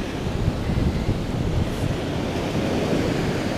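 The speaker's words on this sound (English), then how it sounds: "But I just love the sound of the sea." Sea waves wash onto the shore at Colwyn Bay in a steady, loud roar, mixed with wind buffeting the microphone and no voices.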